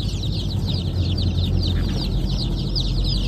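Young laying-hen chicks cheep and cluck continuously in a close, busy chorus, with a low hum of background noise underneath.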